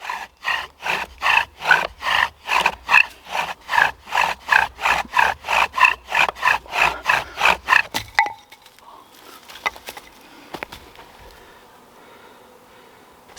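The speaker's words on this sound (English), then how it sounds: "my bow drill slipped out there before I got to the ember" A bow drill spindle rubs against wood in about twenty rhythmic back-and-forth strokes, each a raspy scraping swell, then stops abruptly after the drill slips, leaving faint rustles and taps.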